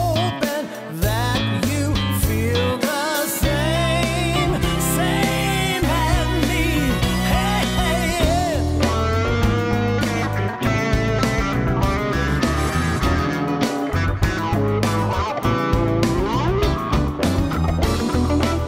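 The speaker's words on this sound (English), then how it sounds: "We're working on a large funk R&B project." A funk R&B mix plays back in Cubase with a full band, bass, drums and melodic parts, running loud and continuous for the whole stretch with no speaking.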